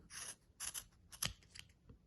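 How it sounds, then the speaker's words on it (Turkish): Close, quiet scissors snipping through yarn threads held between pieces of cardboard while making a pompom, a few short crunchy cuts spaced irregularly, with no talking. "Şöyle biraz uçtan ipleri keserseniz sonra o kartonun arasından geçirdiğinizde daha kolay keseceksinizdir."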